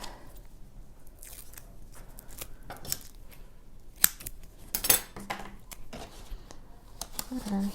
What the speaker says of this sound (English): So I'll just cut myself out a bit of double-sided tape